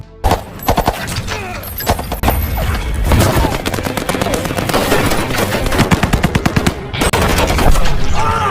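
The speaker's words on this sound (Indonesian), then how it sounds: "Di tengah baku tembak yang semakin sengit, Olivia malah nekat kabur ke tengah hutan." Dense film gunfire fills the scene with rapid machine-gun bursts and scattered single shots, loud and continuous, with a few voices faintly mixed underneath.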